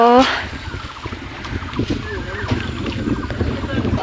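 Gusty wind buffets the microphone outdoors beside a flowing stream in a forest, a rough continuous rumble with faint water and a brief sharp sound at the start.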